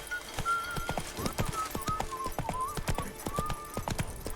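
Roach, the horse in The Witcher 3 video game, trots with a steady clip-clop of hooves, close and clear, while a soft melodic tone drifts over the rhythm.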